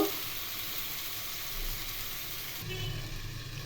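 Mixed vegetables cooking under a lid on a low flame, giving a steady soft sizzle and hiss that continues evenly throughout, with a small shift in tone near the end.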